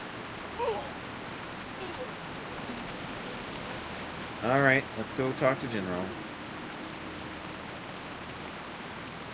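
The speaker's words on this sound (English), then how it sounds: "Oh, and of course it starts to rain." Steady rain hiss in a hardcore self-found World of Warcraft playthrough, a dwarf paladin questing in Feralas, runs as a constant soft wash under the whole stretch while someone speaks briefly midway.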